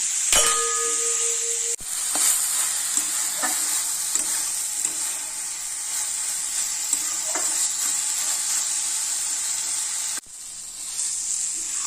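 Fish head and cabbage frying in a pan for an Odia machha munda chencheda, with steady loud sizzling throughout and occasional clinks and scrapes of a spatula stirring against the metal.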